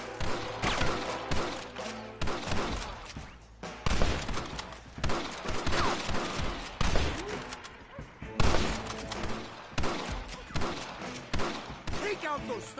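Rapid gunfire in Red Dead Redemption, loud repeated volleys of shots in bursts throughout, with a game voice speaking over the shooting.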